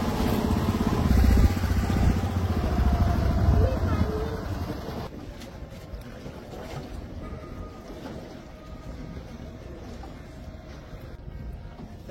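A motor boat on the water at Bhigwan bird sanctuary, its engine droning loudly and steadily at first and then easing to a quieter, rougher rumble with water wash, heard close from on board.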